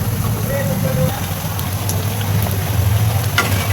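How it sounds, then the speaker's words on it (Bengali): Chicken mince pitha frying in hot oil while being gently stirred, a constant crackling sizzle with low rumbling underneath and small clicks of the utensil. "পিঠাটা একটু হালকা নাড়াচাড়া করে দিব"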